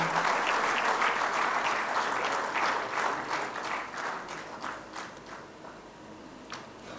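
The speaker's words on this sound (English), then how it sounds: "let's have a round of applause as we unveil to all of you the FFAI Bulletin" Applause from an audience at a formal business session for a bulletin unveiling, steady and sustained, gradually tapering off with a few last claps.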